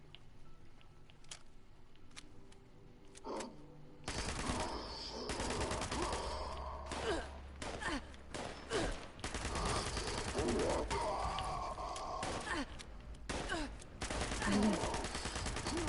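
Video game gunfire from a newly tried weapon, with sharp isolated shots at first and then sustained loud bursts of rapid automatic fire that run almost continuously over a steady background.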